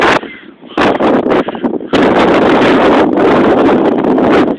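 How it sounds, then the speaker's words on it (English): Blizzard wind roaring and blowing snow, loud and close with heavy gusting buffeting that drops briefly and then surges back strongly and steadily, with no speech. "It's a blizzard out this bitch."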